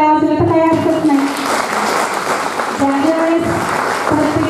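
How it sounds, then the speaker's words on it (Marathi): Women at a women's awards event clap loudly together, a full, close burst of crowd applause with a voice and tonal sounds running over it in places. "महिलांसाठी महिलांनी जोरात टाळ्या वाजवल्या तर काही हरकत नाही"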